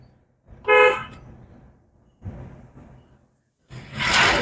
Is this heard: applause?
no